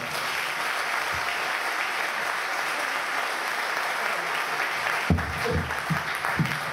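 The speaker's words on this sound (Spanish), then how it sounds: "Un aplauso, por favor." Applause from a live audience at a PechaKucha night in Ferrol, greeting a magician. Steady, dense clapping runs throughout, with a few louder claps and a brief voice near the end.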